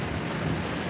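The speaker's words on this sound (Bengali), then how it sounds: "বালতি পেতেছে জল পড়ছে ঘরে" Heavy rain pours down on a badly damaged house with water leaking inside, a dense, even roar of rainfall heard close and alone for under a second.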